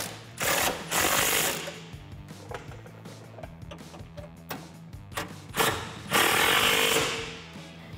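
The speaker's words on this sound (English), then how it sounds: "Grab your 15 millimeter socket and tighten them down" A 15 mm socket on a ratchet tightening fog light mounting bolts on a 2017-2019 Ford Super Duty, with repeated bursts of rapid metallic clicking separated by short pauses, close and moderately loud.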